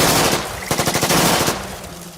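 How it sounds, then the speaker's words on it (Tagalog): Rapid machine gun fire rattles in a dense, loud burst of repeated shots with a noisy wash around them, fading slightly toward the end, with no voices. "Mabilis na umalingaw-ngaw ang maraming tunog ng baril sa paligid."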